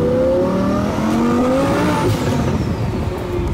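Twin-turbo Lamborghini Huracan with an aftermarket turbo kit, its engine revving loudly and close with rising pitch sweeps through the gears, a steady powerful roar throughout.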